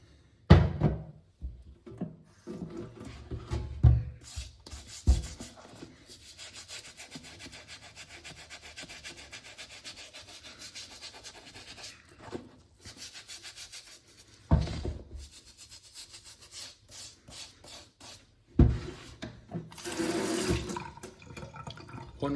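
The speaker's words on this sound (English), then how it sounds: "get in and brush your dirt and debris out" A stiff brush scrubs soapy leather on a pair of Nicks Waterwork boots, a steady close rubbing broken by a few louder bursts of brushing and handling.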